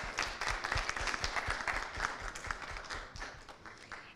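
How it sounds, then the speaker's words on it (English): Audience applause after a campus talk on communicating with empathy, a dense, steady clapping from a crowd that fills the whole stretch and tapers slightly toward the end, with no talk over it. "So we can give a huge round of applause one more time."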